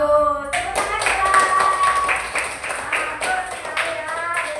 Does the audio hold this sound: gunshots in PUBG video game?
no